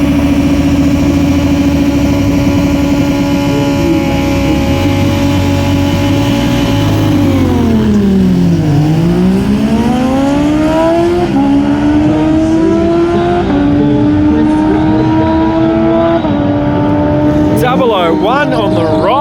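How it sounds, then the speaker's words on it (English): Two motorcycles, an Aprilia and a Kawasaki Z750, drag racing at a streetbike drag night, engines revving loudly and rising and falling in pitch through gear changes, with an announcer's voice running over them. "We've got the Aprilia here now, going up against Mr. Christopher Moore on the Z750."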